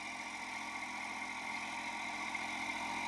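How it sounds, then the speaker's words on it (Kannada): A Kubota 24 hp four-wheel-drive mini tractor engine runs at a steady, even idle, a low continuous hum with no voices. "ನೀವು ನೋಡ್ಬೋದು ಟ್ರ್ಯಾಕ್ಟರ್ ಹೆಂಗೆ ವರ್ಕ್ ಮಾಡ್ತಾ ಇದೆ"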